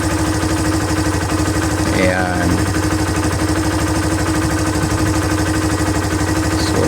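A Kawasaki Barako 175 motorcycle engine idles after a spark plug fix, a loud, steady, fast-pulsing putter that runs the whole time, with a short spoken word near the start.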